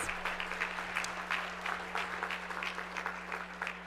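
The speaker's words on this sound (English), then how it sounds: "Yes, that deserves applause." Scattered applause from an audience at an international business gathering in St. Louis, many light claps close together over a steady low hum, fairly faint and unbroken, with no speech.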